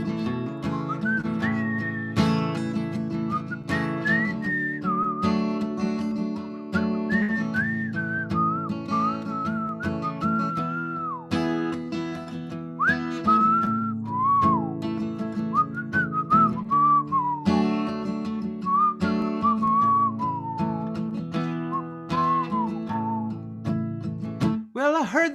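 Several people at an open mic whistle a wandering melody together over steady strummed guitar chords, continuous and fairly close, with no talking.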